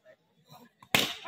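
A cricket bat strikes the ball during a match: one sharp, loud crack near the end, followed by a short wash of noise, after faint murmurs.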